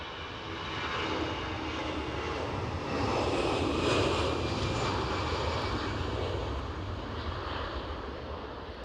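Steady roar of an airliner's jet engines at Edinburgh Airport, a broad continuous rumble that swells around the middle as the aircraft passes, heard outdoors from a spotting position with some wind.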